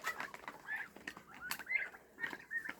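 Chickens cluck and squawk close by in short, busy bursts, a small flock chattering continuously with rustling underneath.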